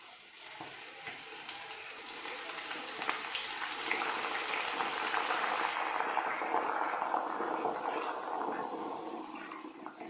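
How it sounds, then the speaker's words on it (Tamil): Homemade hair oil with aloe vera bubbles and fizzes as it heats in a pan, a soft, continuous crackling hiss that swells gradually and then holds steady. "ஆயில் வந்து இப்போது பபிள் ஆகுது"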